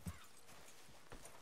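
Horse hooves clip-clopping in Red Dead Redemption 2, a few soft, fairly quiet thuds near the start and again toward the end, with faint background ambience.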